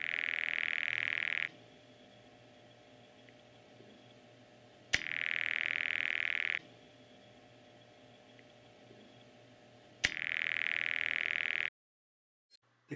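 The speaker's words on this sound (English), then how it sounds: "where it generates an audible tone through the receiver." A steady buzzing ringback tone from a step-by-step telephone exchange heard through a telephone receiver, repeating in two-second bursts separated by quiet gaps, with faint clicks between cycles.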